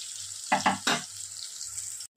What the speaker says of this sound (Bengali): একটুখানি বেগুনটা আমি ভেজে নিয়ে